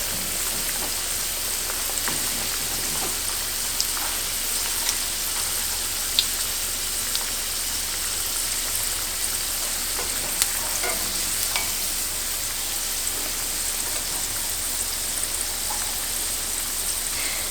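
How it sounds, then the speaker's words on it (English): Cheesecake egg rolls fry in a skillet full of hot oil, a steady dense crackling sizzle with scattered pops, close and continuous, with no talk. "lay these in the skillet full of oil"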